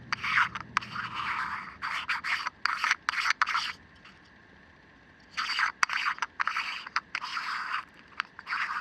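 A standard 2 inch filter is threaded onto a Celestron twist lock adapter. Close, dry rubbing and rasping scrapes come in rhythmic bursts, with a brief quiet pause in the middle.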